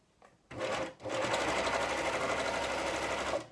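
Domestic sewing machine stitching fabric for a snood, a brief start then a steady, close, fast whirring run of needle strokes for several seconds, alone without talk.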